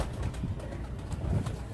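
Soft, low pigeon coos repeat a couple of times close by, over a quiet rumbling background.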